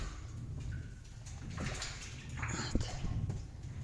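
A bucket of water is drawn up from a backyard well with a crank handle. Water sloshes and splashes in the bucket in uneven bursts, with a few sharp knocks near the end, at a fairly quiet level.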